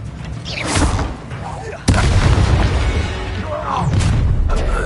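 Spell casting effects in the video game Hogwarts Legacy: a sudden heavy boom followed by whooshing, crackling magical bursts, with voiced dialogue running alongside.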